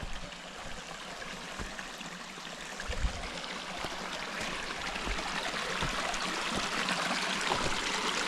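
Water flowing steadily in a mountain stream above bedrock, somewhere near falls in the Highlands of North Carolina. It makes a continuous close rushing and trickling wash that rises slightly toward the end, with no talk.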